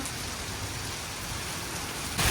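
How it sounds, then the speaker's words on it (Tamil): Heavy, continuous rain pours steadily at close range in a Kanyakumari garden, a dense unbroken hiss that swells slightly louder near the end, with no voices. "மழை எப்படி பெஞ்சிட்டு இருக்குன்னு பாருங்க அவ்வளோ பெரிய மழை கண்டினியூஸாக பெஞ்சிட்டே இருக்கு"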